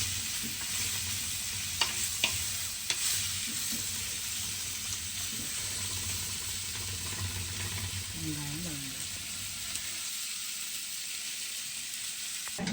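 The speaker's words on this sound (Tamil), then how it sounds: "வெங்காயத்தை நல்லா வதக்கணும்" Onions sautéing in oil in a pan for a fish fry, a continuous hissing sizzle with a few stirring clicks near the start, fairly close and even in level, with a brief voice-like tone partway through.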